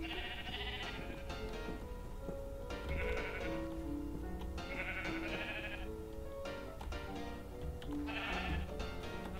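Sheep in the video game Minecraft bleat repeatedly, several drawn-out baas overlapping a busy game soundscape with bright tones, steady and moderately loud throughout.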